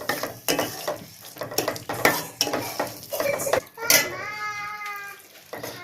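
Metal spoon stirring and scraping spiced masala with red chilli powder in a pot on the stove for Ambur chicken biryani, with repeated close clinks and scrapes over a soft sizzle while a person talks.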